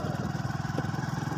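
Motorcycle engine idling on a desert road in Cholistan, a steady rapid low putter with even pulses, close and continuous throughout, no speech over it.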